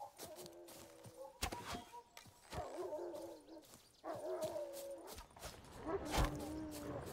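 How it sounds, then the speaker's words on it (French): Dogs in The Witcher 3 bark, yip and whimper in short bursts with sharp thumps between, mixed with game effects and occasional faint voices. "Ils sont gros, pour des chiens."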